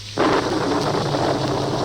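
A thunder-and-rain sound effect on a 1973 spooky story record: a sudden crack of thunder breaks in, then a loud, dense rush of rain and rumble carries on steadily with no voice.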